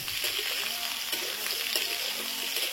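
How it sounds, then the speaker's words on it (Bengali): Soybean chunks fry in a pan with a tomato and green chili spice paste, a steady close sizzle with a few faint stirring clicks running throughout. "এবার আমি সয়াবিনটা দিয়ে একটু ভেজে নেব, এই 2 মিনিট মতো ভাজলেই হয়ে যাবে।"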